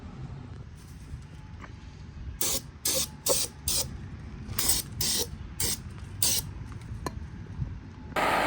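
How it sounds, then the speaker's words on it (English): Repeated short bursts of brake cleaner aerosol spray on a motorcycle exhaust, hissing loudly in quick irregular pulses, with a longer blast at the end over quiet background noise. "Now we're just gonna take some brake cleaner and clean off all the polish that is on it."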